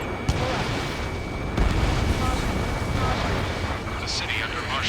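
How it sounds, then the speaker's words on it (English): Gunfire and explosions in the video game Ace Combat 7, heard as a dense, continuous roar of distant booms and rumbling blasts, with a heavier thump near the start and a sharper burst later. "Gunfire and the roar of jets echoing through the streets."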